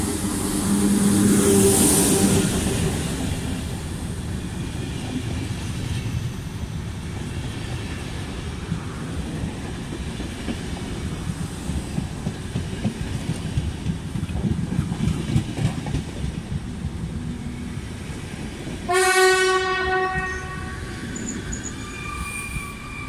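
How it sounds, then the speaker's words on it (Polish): An Intercity Silesia passenger train hauled by an EP09 electric locomotive rolls into a Polish station with a rumbling, rising clatter of wheels and faint squeal, then sounds a loud, bright horn blast near the end. "Wjeżdża pociąg Intercity Silesia ze stacji Warszawa Wschodnia do stacji Praha Chlawni na Drażyi i Bielsko-Biała"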